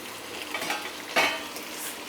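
Potatoes fry in a pan for a spicy potato dish while a utensil stirs them, giving a steady close sizzle with a louder scraping burst near the middle.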